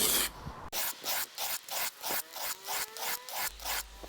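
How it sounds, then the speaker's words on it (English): A wood plane blade is honed on an oilstone in about a dozen even back-and-forth strokes, each a close, gritty scraping rasp in a steady rhythm, with no speech. "lift it very slightly and push forward along the oilstone"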